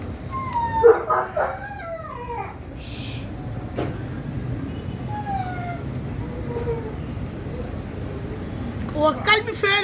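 A dog lets out a few sharp barks early on, then thin whimpers and whines trail off over a low background hum, with a final cluster of yelps at the end.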